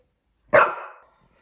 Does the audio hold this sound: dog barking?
yes